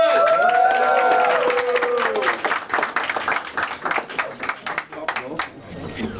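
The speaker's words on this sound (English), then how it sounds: "Big round of applause for the new Bachtim, the Yeshiva Chabad" A crowd at a Chabad yeshiva gathering claps and cheers to welcome new shluchim, with voices shouting over the applause at first before the clapping turns loose and uneven toward the end.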